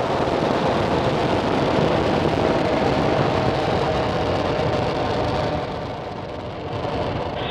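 A SpaceX rocket lifting off on the Starlink 21 launch, heard as a continuous loud, dense broadband roar that holds steady and dips slightly near the end.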